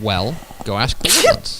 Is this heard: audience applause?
no